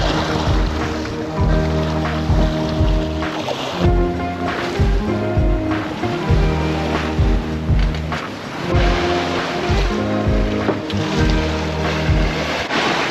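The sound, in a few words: strong 40-knot wind and waves while sailing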